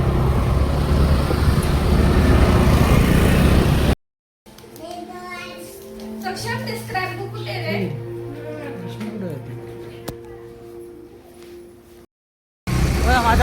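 A car is driven along a road, with its low engine and road rumble loud at first, then quieter under the chatter of adults and children inside after a brief cut.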